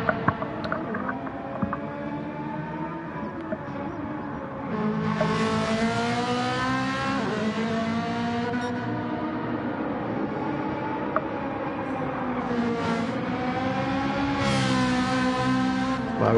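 A Ferrari Gr. 3 race car engine in Gran Turismo Sport at Trial Mountain, revving hard with rising pitch sweeps through repeated gear changes. Continuous and loud, with another car's engine overlapping it at times.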